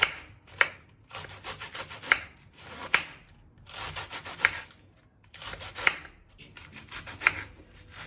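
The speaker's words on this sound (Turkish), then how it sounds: "lahanalarımı güzel güzel ince ince bu şekilde doğradım" A knife chops cabbage finely in quick bursts, each run of rapid cuts followed by a pause, close up with a crisp, scraping rhythm.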